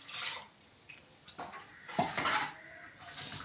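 A ladle scrapes and clinks against a metal pot of Tamil fish curry (meen kulambu) in a few short, quiet strokes, with soft stirring noises between them.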